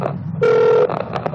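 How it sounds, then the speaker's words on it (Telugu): An outgoing telephone call gives one short, loud electronic ring tone, set between muffled background voices and line noise. "మళ్ళీ ఒకసారి రింగ్ చేస్తాను నేను,"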